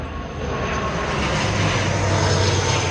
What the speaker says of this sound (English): given the number of planes that keep coming over